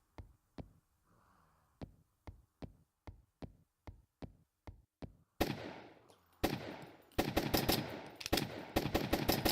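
Sharp, evenly spaced shots from a shotgun in the zombie run-and-gun game Zombiehood crack out one after another, then give way to a louder, denser stretch of rapid gunfire and chaotic action noise.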